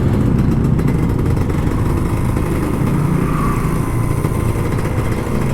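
A Kawasaki Ninja RR 150, an older two-stroke model, rides through Jakarta traffic, its engine a steady, loud mid-range drone with dense low rumble held evenly throughout without pauses.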